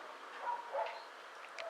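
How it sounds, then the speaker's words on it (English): A small dog in a rural village gives a few short, faint yips over quiet outdoor ambience, with two or three brief bursts close together. "There's one down here with a little dog."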